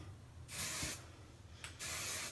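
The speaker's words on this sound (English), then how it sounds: "we'll give it one more quick spray" Hairspray misted onto loose beachy curls, two short hissing bursts close to the microphone separated by a brief pause, with a faint third puff between them.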